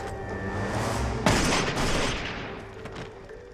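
Gunfire erupts in a scene from the TV series Fargo, season 1 episode 7: a sudden loud volley of shots over a tense ambient bed, then a decaying rumble and scattered fainter cracks, with no talk.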